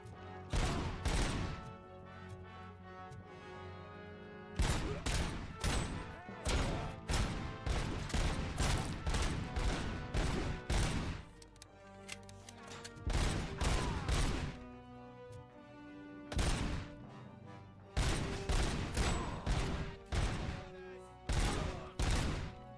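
Gunfire in the PS5 video game RoboCop Rogue City, repeated bursts of rapid shots in clusters with short gaps, loud and close, no talking.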